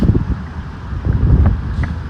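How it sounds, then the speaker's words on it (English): Low buffeting wind noise thumps against a microphone outdoors in central Moscow in uneven gusts, rumbling and close, with no speech. "It's too windy."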